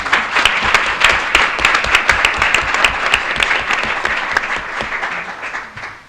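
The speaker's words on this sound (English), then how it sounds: "If you would give her a round of applause." An audience gives a round of applause at a leadership panel event, many hands clapping in a dense, lively burst that stays strong and close, then thins and fades out at the end.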